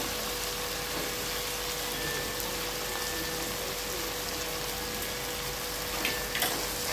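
Ginger garlic paste sautéing in a pan while cooking a spicy crab gravy, giving a steady, dense sizzle and crackle that runs the whole time, close and fairly loud, with no voices.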